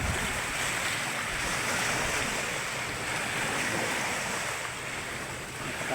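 Cold northeast amihan wind drives steady, loud surf against a coast used for seaweed farming, the roar continuous with heavy wind buffeting the microphone and no voices.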